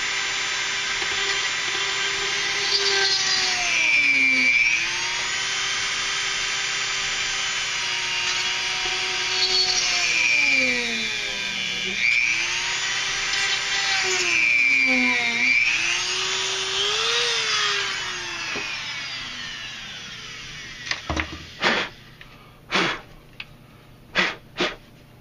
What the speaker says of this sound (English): once we've got those holes drilled, go ahead and clean up some of our drillings up